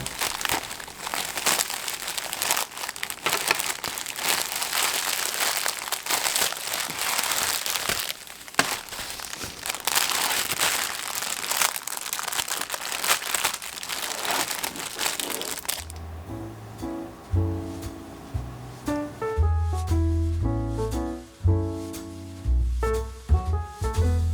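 A package of newly made keychains is opened with loud, close plastic crinkling and rustling that runs steadily for about sixteen seconds before music takes over.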